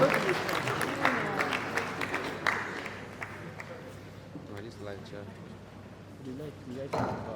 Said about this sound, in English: A round of applause for Prof. Adesoun.